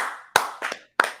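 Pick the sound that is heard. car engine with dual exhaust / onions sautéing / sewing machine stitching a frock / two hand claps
two hand claps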